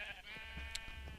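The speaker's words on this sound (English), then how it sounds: "I've got just some pigs and cows on this one, some coloured sheep over here" Sheep in Minecraft bleat with a short, wavering, high-pitched call. The sound is faint and heard alone over a quiet background.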